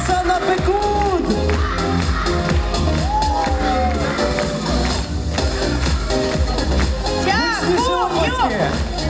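A large crowd at a children's song festival concert cheers, whoops and shouts loudly and steadily throughout, with some applause and voices mixed into the dense roar.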